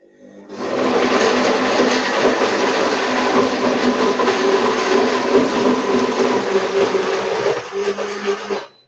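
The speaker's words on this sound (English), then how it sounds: "I'm going to turn it on slow to see how everything blends." A Vitamix 9200A blender runs on slow speed, a loud, steady whirring churn that starts abruptly and holds for about eight seconds before cutting off, with no voices.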